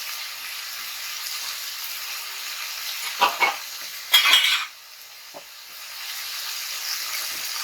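Thinly sliced vegetable stems, greens stalks for a bitter gourd curry, frying in a pan, with a steady hiss interrupted by a few bursts of stirring scrapes and clinks before settling back to sizzling.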